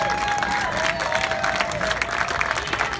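Steady crowd applause with scattered cheering at an outdoor hot dog eating contest in Portland, Oregon, a dense, continuous wash of clapping from many hands for the contestants, while a faint tone sounds near the start.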